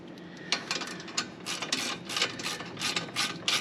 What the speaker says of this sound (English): So tightening this thing up.